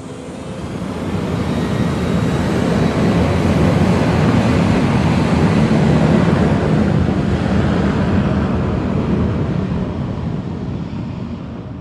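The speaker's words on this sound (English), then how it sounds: "Wow, it is a windy day here in Tampa, Florida." Strong wind in Tampa, Florida roars steadily across the microphone, a loud, continuous rushing noise that swells and eases slightly over several seconds, with no voices.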